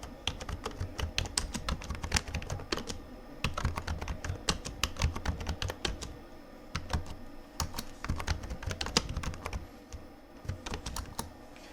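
Rapid typing on a computer keyboard while entering a title in Edius Quick Titler, a dense stream of crisp close keystrokes in bursts with brief pauses, no voice over it.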